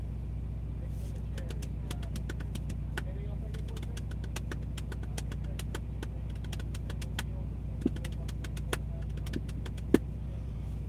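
A car engine idles steadily at about 900 rpm, a low continuous rumble close by, with scattered faint clicks and a few sharper ticks toward the end, alone without talk.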